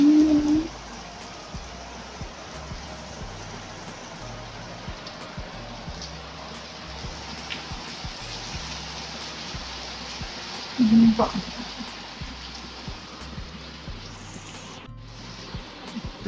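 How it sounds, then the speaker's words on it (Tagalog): Steady rain pours down continuously, a dense hiss of falling water with a brief voice or two breaking through faintly. "Ang lakas, ang ulan."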